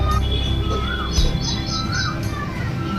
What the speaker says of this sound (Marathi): काहीतरी ओरडतोय पक्षी रे.